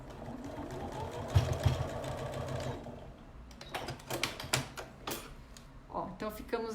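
A sewing machine stitches along the side of a fabric lingerie pouch with a zipper, a close rapid mechanical whirring in short bursts broken by pauses, with some speech-like sounds mixed in.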